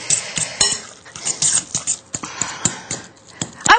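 Mashed potato filling for twice-baked potatoes gets stirred in a bowl, giving rapid, irregular clinks and scrapes of a utensil against the dish, close and fairly loud.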